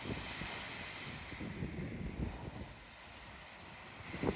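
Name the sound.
strong gusty wind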